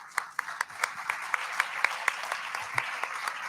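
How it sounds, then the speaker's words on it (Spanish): An audience at a panel event on artificial intelligence and cybersecurity claps in a steady, moderately loud round of applause, with distinct individual claps standing out from the crowd's wash throughout. "Recibimos a todos con un fuerte aplauso."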